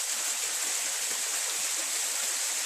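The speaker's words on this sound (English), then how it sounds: "as this purified water falls between the cracks of my hand" Purified water falling through the gaps between the fingers of a hand, a steady close splashing trickle with no pauses and no voices.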